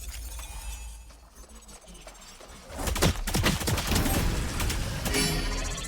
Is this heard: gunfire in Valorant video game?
yes